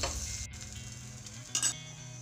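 Bread frying in butter in a pan over high heat, a quiet, even sizzle with a brief louder crackle near the end.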